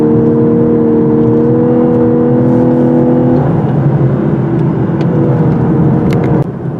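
A 2018 Lexus LC500h hybrid drives on the road, its engine humming with steady tonal whine that shifts pitch midway as it changes gear, loud interior cruising noise with road rumble beneath and no talk.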